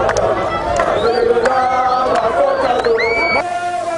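A street crowd in Bakongo, Brazzaville, greeting a sapeur musician with loud cheering, shouts and overlapping voices, dense and close throughout.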